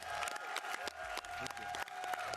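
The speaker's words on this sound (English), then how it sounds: "We give everyone a round of applause." Audience applause at an Xbox showcase event, a steady wash of clapping and crowd noise with scattered louder claps, fairly close and sustained throughout with no speech over it.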